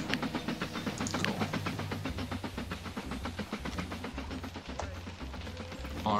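A train departing in Mashinky, a railway-building video game, rumbles steadily with rhythmic clickety-clack and a faint hiss, moderately quiet, with a voice talking over it.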